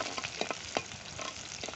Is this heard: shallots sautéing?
yes